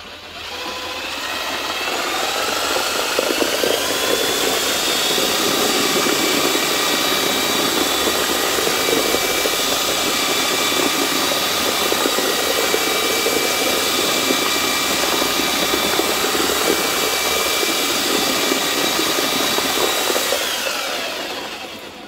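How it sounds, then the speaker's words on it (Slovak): A Graphite 58G789 1800W double mixer churning about 50 kg of concrete in one container at speed two, a loud, steady motor whine with gritty churning underneath that holds constant before winding down at the end. "mohli ste vidieť takéto miešanie 50 kg betónu na jeden krát v jednej nádobe"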